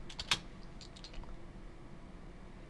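Commands are typed on a computer keyboard during a Windows XP boot repair. A short burst of a few crisp key clicks comes near the start, then a quiet pause.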